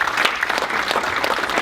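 An audience at a Bitcoin conference applauds the demos, a dense burst of many hands clapping steadily throughout, close and fairly loud.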